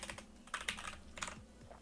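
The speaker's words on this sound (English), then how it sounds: "So now I should be able to see a bunch of typing." Quick, quiet clicks of computer keyboard keys come in a rapid, uneven rhythm, soft and close with no voices.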